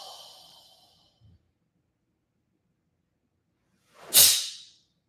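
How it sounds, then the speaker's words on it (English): A sharp, forceful exhale during a karate kata from a traditional Okinawan Tang Soo Do form, a single loud hissing breath that rises quickly and fades after about a second, preceded by a fainter breath and near silence. "And then exhale."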